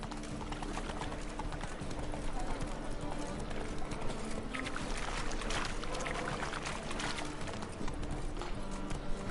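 Roach the horse gallops in The Witcher 3, her hooves clip-clopping in a steady, driving rhythm, loud and close, within a dense wash of other game sound.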